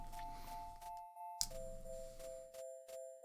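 In the video game Mothmen 1966 a bell rings as a two-tone ding-dong, sustained tones falling from one pitch to a lower one, with faint ticking clicks, fairly quiet and alone.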